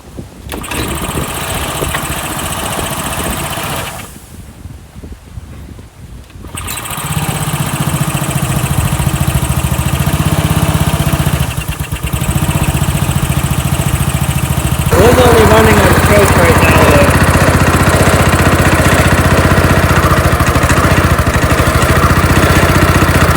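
Small engine with carburetor trouble, a stuck float flooding it with too much fuel, runs loud and close with a rough, uneven drone, briefly dipping and faltering before surging back into a steady, strained roar.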